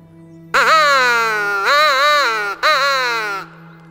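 A crow caws loudly and close by in three long, drawn-out harsh calls, each slightly wavering in pitch, with a brief gap before the last, in a woodland folk tale.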